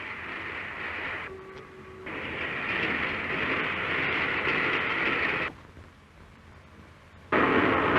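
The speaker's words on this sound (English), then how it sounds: "The train hurries northward, 60 miles an hour, 70 miles an hour, 80 miles an hour" An LMS steam train of 1938 runs at speed through open country, a steady broad rushing rumble that continues throughout, briefly quieter near the end before the roar swells back loudly.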